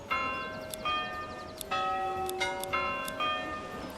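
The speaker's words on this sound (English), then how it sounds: "We can change the bell sound." A church bell rings in the medieval strategy game Manor Lords, struck about five times at a steady pace with long resonant tones ringing on between strikes, clear and alone over a soft background hum.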